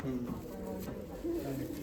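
Gumti pigeons coo in a loft, soft low burbling calls that swell and fade a few times close by while someone talks over them.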